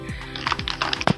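Keys clack in quick, uneven bursts on a keyboard during Hindi typing practice with a virtual keyboard and TalkBack, close and clear with no talk.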